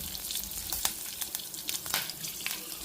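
Dried red chillies fry in a pan with a faint, steady crackling sizzle, scattered small pops and the occasional light scrape of stirring, close but quiet, with no talk.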